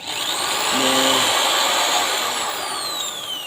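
KYK 1/2-inch (13mm) impact drill whirring loudly and continuously at close range, its motor pitch sweeping and shifting as the variable speed changes, with no talk over it.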